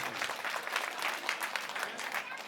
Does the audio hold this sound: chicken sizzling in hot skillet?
no